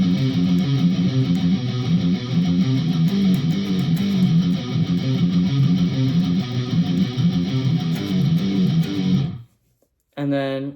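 Electric guitar playing a riff with power chord slides, a dense, driven and steady chugging pattern that runs loud for about nine seconds, then cuts off briefly before a short return.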